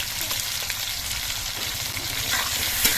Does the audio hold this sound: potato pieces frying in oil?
yes